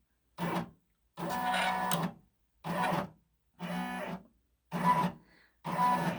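Brother embroidery machine moving its fast frame, heard as six short whirring mechanical bursts at close range. Each burst lasts under a second and brief silences separate them.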